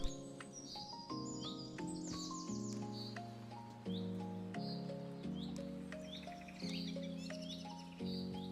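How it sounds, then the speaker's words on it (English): Bird chirps and tweets from the video game On-Together sound repeatedly over a steady musical backdrop, bright and fairly close, in short scattered bursts. "Oh, bird sounds? Are these bird sounds?"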